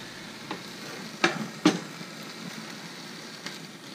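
Reuben sandwich bread frying in a pan, a faint steady sizzle with a few soft scrapes and taps of a utensil moving the filling around.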